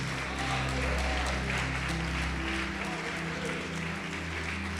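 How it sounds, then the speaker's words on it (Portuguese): A church congregation applauds at a steady, dense level throughout, with a low sustained hum and faint voices running underneath. "Pode aplaudir."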